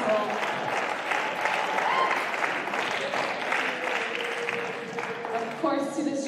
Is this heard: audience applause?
yes